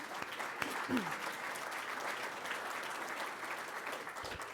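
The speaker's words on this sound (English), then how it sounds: "please join me in a round of applause for the Union Club" Applause from a crowd, steady clapping throughout at moderate volume, with a faint voice briefly audible underneath.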